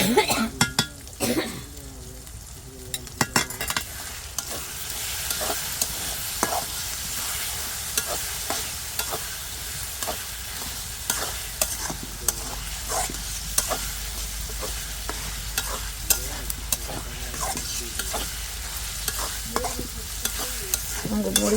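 Masala is stir-fried in a pot, a constant sizzle broken by frequent metallic scrapes and knocks of a spoon against the pot's sides, near and busy throughout.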